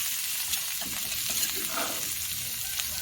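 Spices sizzle steadily in hot oil, with soft scraping and stirring in the pan, close and continuous.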